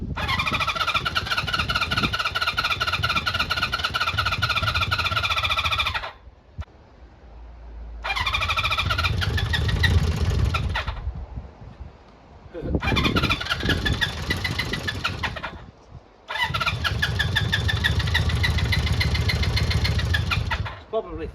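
A classic Honda CB400 Four motorcycle cranks on the starter in long loud whirring bursts, catching briefly and sputtering between attempts with short pauses, as if flooded.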